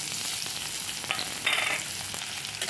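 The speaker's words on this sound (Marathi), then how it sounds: "जिरे तडतडले तर घालूया कांदा" Chopped onion sizzles and crackles in hot oil with cumin seeds in a heated kadhai, a close, steady frying hiss with brief louder spits and stirring.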